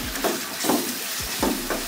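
Ginger garlic paste frying in a pot over a village cooking fire, stirred in regular strokes roughly every half second, each scrape rising over a constant close sizzle, no talking.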